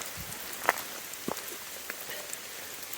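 Rain falling during a thunderstorm on a rocky hiking trail: a faint, steady hiss of drops on the ground and foliage, with a few sharper taps standing out, and no voices.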